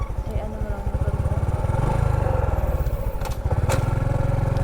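Motorcycle engine idling and revving at a beach resort, a close, loud, steady low putter throughout, with people talking over it.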